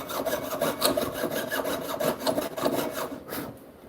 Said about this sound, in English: when I'm sawing, I'm not looking directly where my saw is making contact with my metal